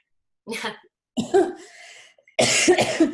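A few short, throaty coughs in separate bursts, close to the microphone, with brief pauses between them and the last burst harsher and louder.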